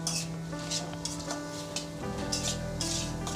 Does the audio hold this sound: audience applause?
no